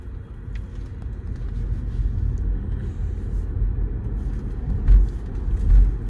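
A BYD Sealion 7 RWD electric SUV drives in eco mode, giving a steady, low road rumble and cabin drone throughout, with two brief swells in loudness near the end.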